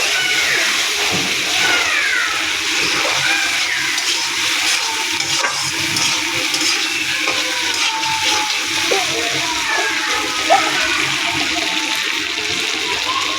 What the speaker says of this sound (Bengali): এই যে আমি আলুটাকে কষাচ্ছি